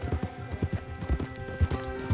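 A horse ridden near Moonstone Pond in the game Red Dead Redemption 2 clip-clops steadily, its hooves thudding in a quick, even rhythm at moderate loudness over a constant background hum, with no talking.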